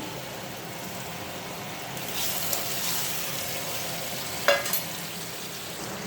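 Fish frying with spices and mustard paste in a pan, a steady soft sizzle and bubbling with a brief clink of a utensil near the end.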